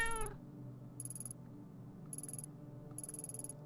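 Cat meow from the video game Tokyo Dark: one short clear meow at the start, then a soft low hum with three bursts of high, metallic, clock-like ticking.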